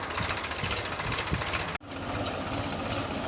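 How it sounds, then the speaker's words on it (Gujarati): A tractor engine runs steadily in a field while it sows wheat. The drone is continuous and fairly close, with one brief dropout partway through and no talk. "હવે ભરત દાદાએ ટ્રેક્ટર ચાલુ કરી દીધું છે"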